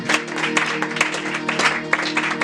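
A church congregation applauds: steady, dense clapping from many hands, loud and close, with a sustained organ or keyboard tone humming underneath.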